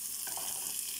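Ginger garlic paste fries in oil in a kadai for chicken curry, giving a brief, steady sizzling hiss with no voices.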